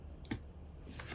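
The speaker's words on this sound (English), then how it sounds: "let's click to the end of it on our keyboard using the arrows" Two crisp, close clicks from keyboard arrow keys, spaced almost a second apart, come through quiet room tone with no voices.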